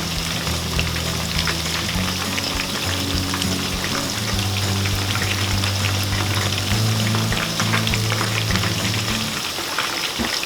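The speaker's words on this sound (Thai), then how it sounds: "หลังจากนั้นเราก็จะเร่งไฟแรงแล้วก็จะเอาขึ้นนะครับ เป็นการ ไล่น้ำมันในหมูเนาะ" Pork pieces deep frying in hot oil over high heat, a loud dense crackling sizzle that runs steadily throughout, close up with no talk.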